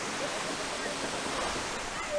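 A waterfall at Cascata do Chuvisqueiro in Riozinho, Rio Grande do Sul, roars in a constant, even hiss of falling and rushing water, steady and close throughout.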